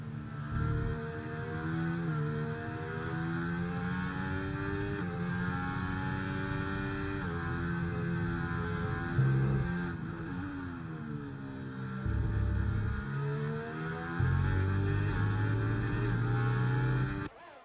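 Formula 1 car engine heard from the cockpit in F1 23 racing game, a steady loud high-pitched whine with rising and falling pitch through gear changes and acceleration, continuous throughout without talk.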